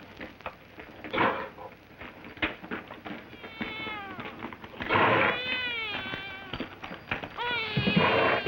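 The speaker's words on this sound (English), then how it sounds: "Screeching going on in there. Sounds like a sick cat." A cat screeches and yowls in repeated drawn-out wails that rise and fall, loud and close, with short pauses between bursts and some thumps.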